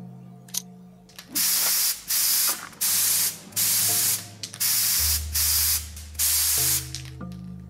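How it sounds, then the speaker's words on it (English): Spray paint can hissing in the video game Fear For Sale, several loud, separate bursts of about half a second each, coming at a steady rhythm over a quiet background hum. "Spray paint?"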